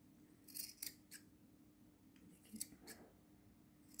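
Scissors snip through wool yarn while a small bird is crafted by hand, giving several crisp close cuts in two short clusters with quiet pauses between.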